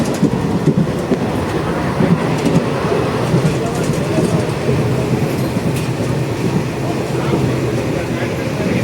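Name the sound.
riding on a train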